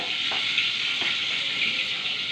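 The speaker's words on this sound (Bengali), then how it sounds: "এখানে মাছটা ফাটছে ধাম ধাম করে আওয়াজ পাচ্ছ কি তুমি" Fish frying in a pan gives a continuous bright sizzle with a few small crackling pops, close and steady throughout.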